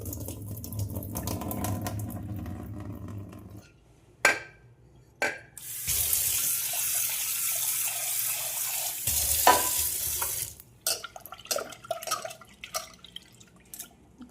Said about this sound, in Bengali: যতক্ষণ না সাদা জল আসছে ততক্ষণ আমি ধুতেই থাকি।